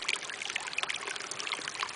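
A creek beside a meadow camp in the woods runs with a steady close babble and trickle, small splashes breaking through the continuous flow.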